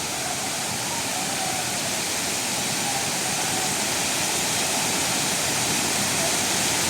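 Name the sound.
waterfall in Kanyakumari district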